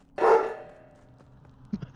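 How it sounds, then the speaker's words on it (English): A dog gives one loud, close bark that rings out briefly, followed by a couple of fainter short yips or thumps a moment later. "You, heard the dog."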